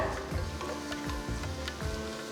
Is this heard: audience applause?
no